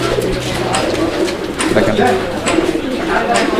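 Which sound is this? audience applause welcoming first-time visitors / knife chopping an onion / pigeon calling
pigeon calling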